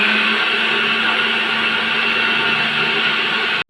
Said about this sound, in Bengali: আম আর দুধটা আমি মিক্সিতে খুব ভালো করে মিশিয়ে মেল্ট করে নেব